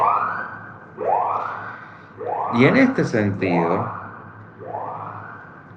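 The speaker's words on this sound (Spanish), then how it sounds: "Para que pase la sirena." Wailing emergency siren sweeps past in repeated rising-falling cycles, swelling loudest midway as it passes near, then fading, while someone speaks over it.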